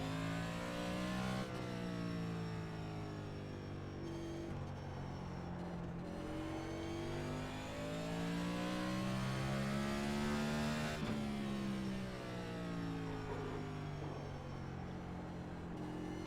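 A Next Gen race car engine in the video game iRacing at Martinsville drones steadily, its pitch sliding up and down through revs and lifts, loud and continuous with no talk.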